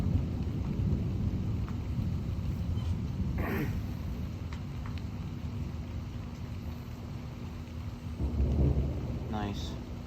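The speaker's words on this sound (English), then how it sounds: "Starting to rain again." Steady rain falls through a summer thunderstorm, a dense constant hiss with low rumbling thunder swelling near the end; a voice speaks briefly in the background.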